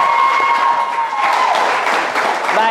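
Ladies and gentlemen in an audience give a round of applause, a full, steady roar of clapping. Voices and a ringing musical tone blend in beneath it.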